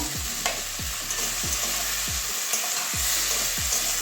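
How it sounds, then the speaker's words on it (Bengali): Fried potato and cauliflower stirred into sizzling masala for a Bengali katla fish curry, steady frying hiss broken by rhythmic spatula scrapes about every half second, close up with no voices. "এবারে ভেজে রাখা আলু আর ফুলকপিটা দিয়ে দেবো"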